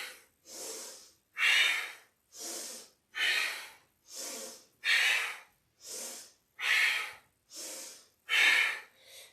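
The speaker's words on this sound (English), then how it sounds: "So keeping that Ujjayi-like breath" Rapid, forceful Ujjayi-like yoga breaths pushed out through the nose, about ten sharp exhales in a steady rhythm with short gaps between them, close and loud.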